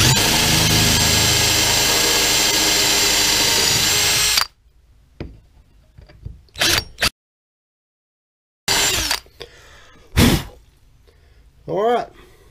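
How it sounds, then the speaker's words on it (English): Power drill boring holes with a 3/16 inch bit, a loud continuous whine for about four seconds, then silence broken by short bursts of the drill spinning up and a few handling noises. "I'm using a 3/16 bit to drill my holes"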